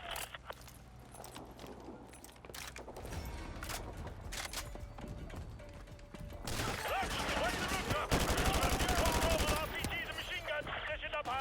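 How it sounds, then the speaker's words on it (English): Gunfire in Call of Duty Modern Warfare 2 Remastered, with scattered shots building into dense, sustained automatic bursts against militia and an RPG machine gun, growing louder toward the end, with someone talking over parts of it. "We're taking heavy fire from the militia here"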